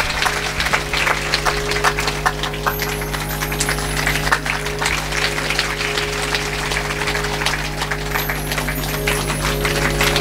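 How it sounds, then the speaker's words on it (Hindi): An audience at a Bhagavat Katha religious gathering applauds to welcome a guest, producing loud, continuous clapping over a steady hum of amplified sound, with no talking. "आइए आदरणीय शेखर जी के लिए जोरदार तालियों के साथ स्वागत, अभिनंदन।"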